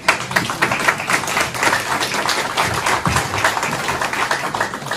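A church congregation claps together in thanks during a worship session, a steady, dense wash of hand claps filling the room from start to finish.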